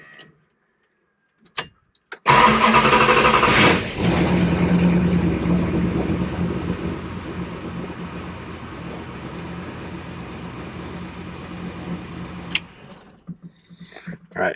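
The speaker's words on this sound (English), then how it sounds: "The car hasn't started in about 2 weeks, so this will be the first time cranking it over to fire up." A car left sitting for two weeks, with a remote oil filter setup, cranks briefly after a few clicks, then fires into a loud, steady idle that slowly settles before cutting off near the end.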